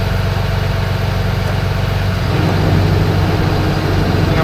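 A fluid truck's engine runs loud and steady at close range, a continuous low rumble and rattle that grows slightly heavier partway through.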